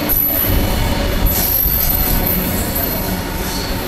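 A train at Chellapalli railway station gives a loud, continuous rumble of rolling wagons with a high, thin wheel squeal running over it, close by and uninterrupted.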